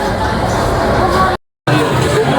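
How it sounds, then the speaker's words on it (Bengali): Dense crowd chatter fills a packed Shobhabazar metro station in Kolkata during Durga Puja, a steady babble of many voices close around, broken by a brief silent gap. "ভালোই ভিড় আছে ভাই।"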